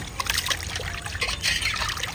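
Fresh chicken is rinsed in water, producing continuous splashing, trickling and swishing close by, with no talk.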